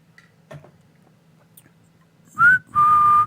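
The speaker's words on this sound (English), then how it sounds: "I actually can whistle. My lips are dry." A few faint clicks, then two short whistled notes close by, the second held steady and louder.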